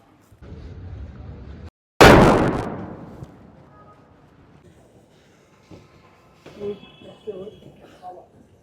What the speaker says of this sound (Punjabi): ਤੇ ਹੁਣ ਇਹ ਕਹਿੰਦਾ ਪਟਾਕੇ ਚਲਾਣਿਆ